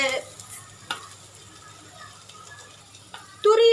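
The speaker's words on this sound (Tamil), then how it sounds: "இப்போ இதில் நம்ம பாயில் பண்ணி வச்சுருக்கிற சிக்கன் போட்டுக்கலாம்." Boiled chicken sautés in a pan with a soft sizzle. Sharp stirring scrapes come at about 0.1 s, 0.9 s and 3.2 s, and a person starts talking at the very end.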